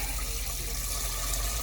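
Water gushes steadily from a tap into a pot being filled for pressure canning meat, a continuous close splashing rush with no pauses.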